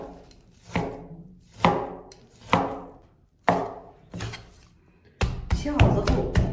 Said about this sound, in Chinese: 然后再给肉切成薄片儿